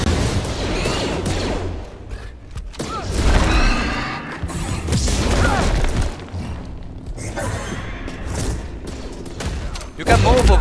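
Laser blaster fire and explosions from Star Wars Jedi Fallen Order, loud crashing booms and rapid shots under excited shouting voices throughout.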